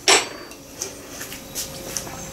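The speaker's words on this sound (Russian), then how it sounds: "Закрываю крышкой." The lid of a slow cooker holding shchi cabbage soup is set in place: one sharp clatter at the start, then a few faint light clinks in a quiet kitchen, with no talking.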